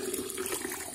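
Water gushes quickly into a container at a mountain spot, a continuous, full, close-up rush with no break.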